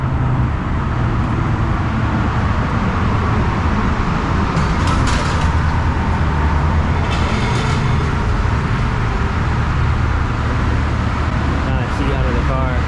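Shelby GT350 Mustang, tuned to about 800 horsepower, idles and burbles with its exhaust dumps open, a loud, steady low rumble that runs throughout, with brief higher rattles and some voices mixed in.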